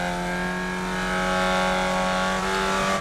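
Formula Vee race cars in a racing video game rev their engines before a standing start at Tsukuba Circuit, a dense, steady, loud engine drone with layered tones that rise slightly, heard alone without talk.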